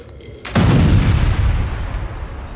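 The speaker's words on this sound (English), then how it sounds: "Finally, in an explosion of fire and ash thanks to one last attack from Ben, the creature fell" A single loud explosion of fire and ash in an audio story erupts with a sharp boom, then a long rumbling roar and crackling debris that slowly fades.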